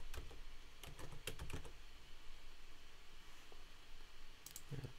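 Fingers type on a computer keyboard while text is entered in Photoshop or Pixlr, giving quiet, irregular bursts of clicky keystrokes with pauses between them and a faint steady background hum.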